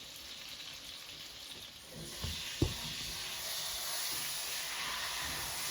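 Corned beef searing in a hot pan with mushroom onion soup mix, a close, steady sizzle that swells after a brief bump and a sharp knock, then keeps hissing loudly and evenly.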